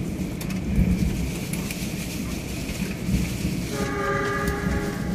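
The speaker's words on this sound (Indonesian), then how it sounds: "Kereta sudah berjalan" Steady low rumble of the Mutiara Selatan passenger train running on its tracks, with a constant clatter and a faint tonal whine joining near the end, no talk.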